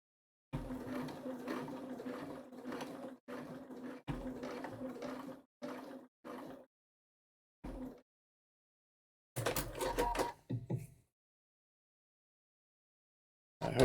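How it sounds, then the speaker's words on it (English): A sewing machine running in short bursts of steady mechanical whirring and stitching, several seconds at first, then briefer runs separated by silences, close and moderately loud. "I'm stitching a ditch"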